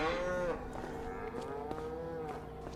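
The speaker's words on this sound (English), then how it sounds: "Check on our cows." In the Farming Simulator 25 video game, a cow lets out a long, loud moo, followed by quieter lowing and faint clicks against steady farm ambience.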